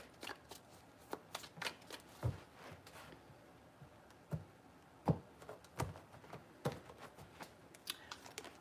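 Tarot cards being shuffled in a quiet room, a run of soft riffling flicks and sharp papery snaps spread unevenly over several seconds, close and fairly faint.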